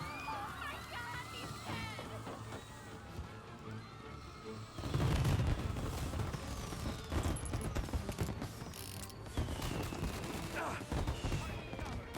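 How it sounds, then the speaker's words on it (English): Fireworks in the video game Mafia: Definitive Edition: after a quieter stretch of background ambience, loud crackling bursts and booming pops erupt around the five-second mark and keep going in dense, irregular volleys. "And now for the fireworks, huh?"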